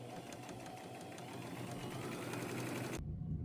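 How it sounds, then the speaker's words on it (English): Sewing machine running a straight stitch along a fabric edge guided by the presser foot, a close steady whirring buzz that stops abruptly near the end. "I'm lining the edge up with the side of my presser foot and using a straight stitch"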